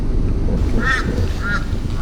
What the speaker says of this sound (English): Look at the birds, look at the birds, look at the birds.